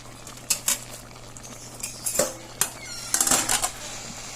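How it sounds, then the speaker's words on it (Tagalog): A utensil stirs a boiling pot of papaya and sardine soup with malunggay leaves, making several sharp clinks and scrapes against the pot over a low bubbling hum. "Haluin natin yan pagkabuhos ng malunggay leaves."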